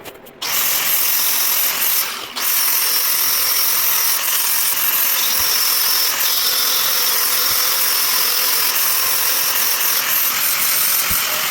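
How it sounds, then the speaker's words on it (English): An angle grinder runs continuously along the underside of a C10 truck frame during a step notch and air bag install, giving a loud, close, steady whine with brief dips at the start, no talking. "I'm going to run a grinder across the bottom of that frame, make sure it's nice and smooth"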